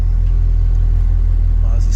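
A MazdaSpeed Protege with a MazdaSpeed exhaust idles in a low, steady droning rumble, close and continuous.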